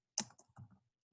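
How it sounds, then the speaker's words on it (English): Typing on a computer keyboard while working in Google Sheets, a short cluster of a few sharp, close key clicks followed by softer taps, then quiet. "if I want to start typing"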